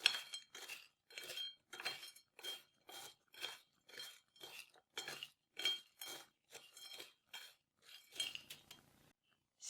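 Potatoes and bread are stirred in a dish with a utensil, producing about fifteen regular scraping, clinking strokes, each a short crunchy burst near and fairly loud, with no talking.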